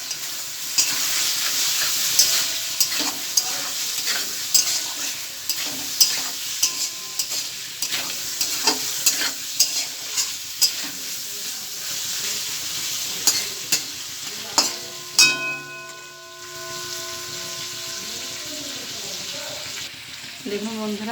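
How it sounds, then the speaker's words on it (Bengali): Chicken meat being stirred and fried in a pan for a chicken, potato and pumpkin curry, with steady close sizzling broken by repeated scraping stirs, then a brief quieter moment before the frying continues. "এবার আমি মাংসটা দিয়ে দেবো আর একবার নেড়ে দেবো।"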